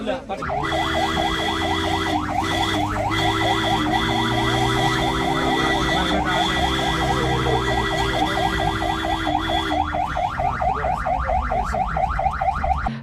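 An ambulance siren wails in a fast repeating cycle, loud and close, continuing for several seconds beside a rescue of injured fishermen after a fishing-boat accident at Tanur, with some background noise and voices.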